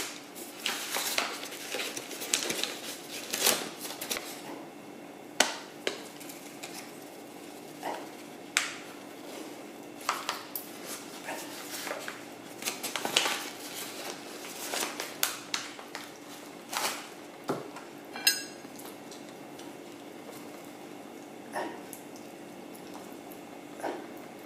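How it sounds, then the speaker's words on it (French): Eggs stirred into flour in a mixing bowl for courgette fritter batter, heard as irregular wet clicks, taps and soft sloshing close by, with no talking. "Là, vous mélangez les œufs avec la farine."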